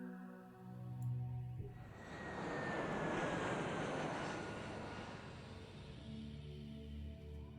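A propeller airplane drones across the sky in a conquest strategy video game, a steady, loud engine hum that swells and holds for several seconds with no voices over it.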